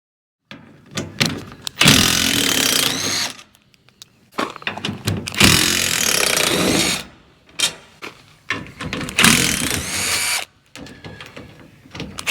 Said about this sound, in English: Most, but not all, use a T40 Torx bit to remove these screws.